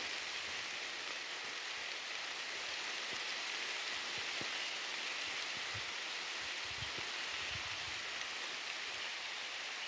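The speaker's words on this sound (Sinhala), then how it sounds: "ඔන්න දැන් වහිනවා ඉතින්" Steady rain pours down, a dense even hiss with occasional heavier drops spattering close by, continuing without a break.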